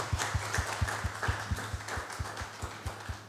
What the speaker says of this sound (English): Can we applaud it?